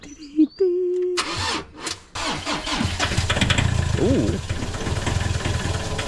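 A Scania V8 truck engine cranks and fires up, then settles into a steady, loud idle close by, with a person exclaiming briefly as it catches.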